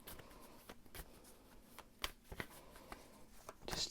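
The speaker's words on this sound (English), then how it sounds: "I'm going to shuffle some of the tarot cards" Tarot cards being shuffled by hand, soft riffling and light taps repeating in short bursts, quiet and close.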